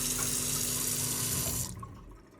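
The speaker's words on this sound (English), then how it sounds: "it is a full-size kitchen sink. And I get both cold and hot water through it." Hot and cold water runs steadily from the tap of a full-size kitchen sink in an off-grid home, a continuous close hiss that stops abruptly near the end, leaving a faint dribble.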